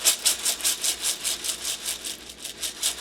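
Home-dehydrated onions being ground into powder: a close, steady scraping grind that pulses in a quick, even rhythm about four times a second, with no talking.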